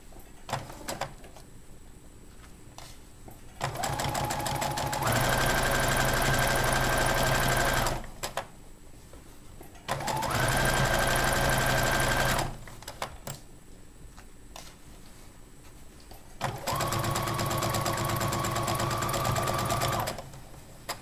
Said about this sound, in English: As I sew, this bottom hand here is just pulling the fabric forward, so I have some leeway here.